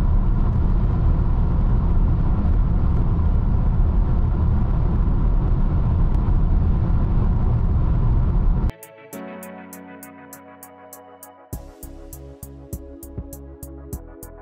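A BMW iX3 electric car cruises on the highway with a steady, loud road and wind rumble filling the cabin, which cuts off after about nine seconds and gives way to a rhythmic electronic chiming pattern.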